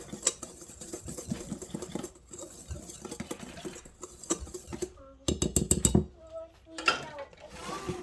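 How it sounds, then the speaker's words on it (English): Cookie dry ingredients, salt among them, get a quick whisk in a bowl, with fast rhythmic clinking and scraping patter that grows louder and busier partway through. "I'm just gonna give it a quick whisk."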